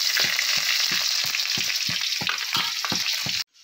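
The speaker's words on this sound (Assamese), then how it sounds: "আপোনাৰ মছলাখিনি ভাজি দিছে বৰ্তমান পিঁয়াজটো দি লওঁ" Onion frying in hot spice masala in a pan, sizzling loudly and continuously while being stirred in a regular scraping rhythm of about nine strokes, then cutting off abruptly at the end.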